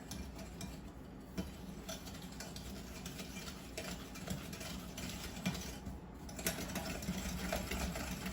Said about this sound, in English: Continuing to stir.